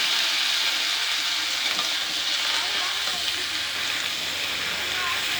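Panch phoron spices sizzling in hot oil in a pan, a steady close crackling hiss that holds evenly throughout with no voices over it.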